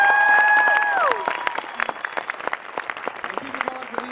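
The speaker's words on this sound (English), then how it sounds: "can we get a round of applause for Joel" A crowd breaks into scattered applause after a sustained tone fades, clapping steady but moderate, with a few voices faintly in the mix.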